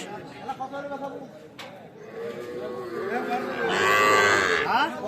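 Calves and cattle lowing at Ambari cattle market, a few moos rising to one loud, sustained bellow near the end, over a background of market chatter and talking voices.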